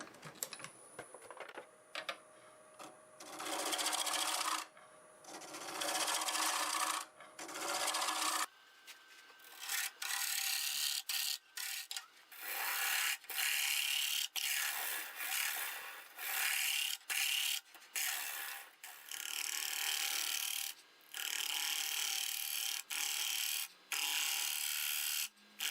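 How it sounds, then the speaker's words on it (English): Shear scraping wood on a lathe with a scraper during bowl turning: a bright, rasping hiss that comes in repeated bursts of a second or two with brief gaps, close and steady, with no talk. "I'm going to go ahead and do some shear scraping here"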